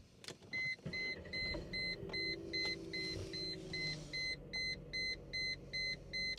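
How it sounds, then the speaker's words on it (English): Electronic chime from an old high-mileage Mercedes beeps in a steady repeating on-off pattern, about a dozen evenly spaced tones, over a low background rumble. "I hope that beeping didn't mean anything treacherous."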